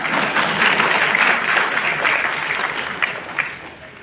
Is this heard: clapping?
yes